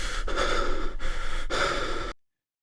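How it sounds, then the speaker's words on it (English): Three slow, heavy breaths, raspy and close, each a long drawn-out rush of air with short pauses between, then silence. "Terrible, carroty breathing."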